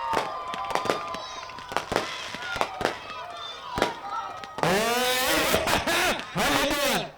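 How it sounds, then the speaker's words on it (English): Fireworks going off at a dirt track speedway in Manitoba, Canada, a string of sharp pops and bangs followed by dense crackling and whistling bursts, with a voice talking over them. "You guys keep watching his fireworks."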